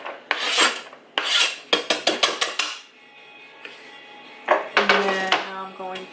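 A knife slices an onion into small pieces for shrimp ceviche, giving quick rasping strokes in several bursts, near and fairly loud, with short pauses between runs of cuts.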